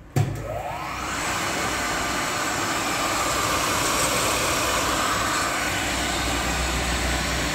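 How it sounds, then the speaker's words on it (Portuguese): A rewound 10 HP two-pole three-phase WEG W22 electric motor, started in star-delta, opens with a sharp click and spins up with a rising whine. It then settles into a loud, steady, high-pitched hum heard alone. "Então, pessoal, vamos testar o motor aqui, né?"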